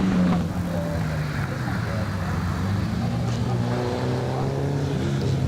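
A hillclimb race car with a small 1600cc Datsun engine, built in 1972, runs at Legend of the Lakes, its engine note droning steadily with a rising and falling pitch, loud and continuous with no voices.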